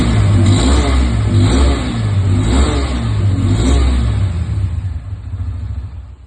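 Bajaj motorcycle engine in a showroom, revving repeatedly in loud, close surges with deep low rumble between rises, easing slightly toward the end; no talking.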